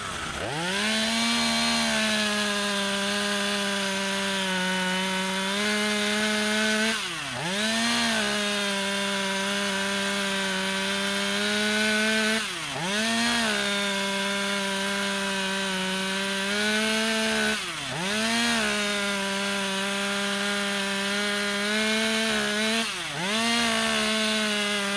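A Husqvarna T540XP chainsaw cuts cookie slices from wood, a loud, close, steady buzzing whine that dips briefly every few seconds as each slice is finished, with no talk.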